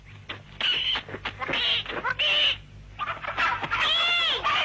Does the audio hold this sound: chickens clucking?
yes